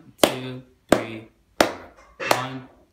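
Four plucked guitar notes on the third string, evenly spaced, each ringing briefly and decaying before the next.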